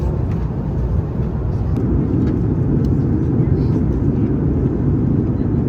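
Steady, loud airliner cabin roar during a long-haul flight out of Australia, a dense low rumble that holds even and unbroken throughout, with no voices.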